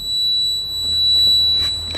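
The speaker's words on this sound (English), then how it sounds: "Loudest thing now is just those gauges." Nissan Skyline gauge cluster buzzing during a hot start, a steady high-pitched electronic whine held throughout, loud and close, with faint low engine rumble beneath.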